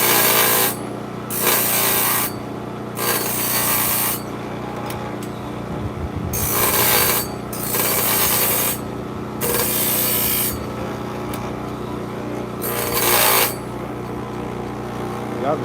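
Old bandsaw blades being sharpened with a power tool, grinding in repeated bursts of a second or two with short gaps, up close and fairly loud over a steady motor hum.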